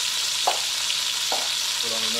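Chicken sears in a hot pan on a stove turned up to high heat, a loud, constant sizzle and crackle with a couple of brief scraping stirs and a faint tonal hum near the end.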